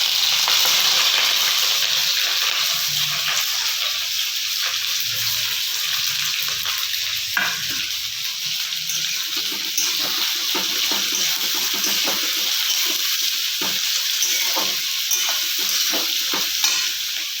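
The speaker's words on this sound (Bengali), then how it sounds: "পেঁয়াজটা ভাজি।" Onions fry in a pan for a spicy Bengali chicken curry, with steady, loud sizzling throughout and faint stirring scrapes and clinks beneath it; no one speaks.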